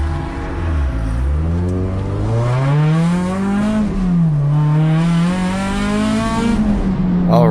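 Acura RSX touring race car at a USTCC race weekend, engine heard from the cabin revving up through gears at the start of a hot lap, loud and close, with a rising, dropping and rising whine and brief tire noise.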